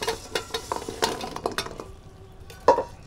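Fried goja sweets go into sticky sugar syrup in a pan off the heat, with soft stirring scrapes, light clinks and a faint sizzle, close and quiet.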